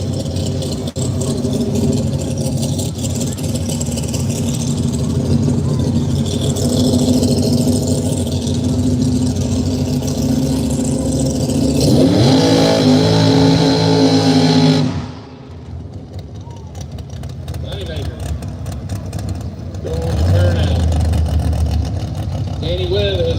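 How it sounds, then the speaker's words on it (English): A Chevrolet Silverado 3/4 ton truck idles with a rattly mid-pitched engine at a drag racing event, rising in a rev before dropping back, with an announcer talking over it throughout. "Matthew Jackson going to be rolling up in the Silverado"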